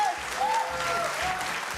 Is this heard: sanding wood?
no